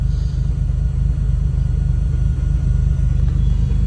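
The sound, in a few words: turbo Acura Legend engine idling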